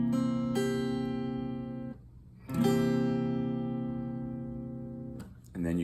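Acoustic guitar strummed chords, a few sustained ringing chords separated by short pauses, played solo and close.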